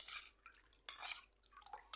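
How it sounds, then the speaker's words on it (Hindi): Water pours and splashes into a bowl of guava and sweet potato chaat in a home kitchen, in a few short quiet bursts separated by silence. "तो ये मैं पानी इसके अंदर ऐड कर देती हूँ।"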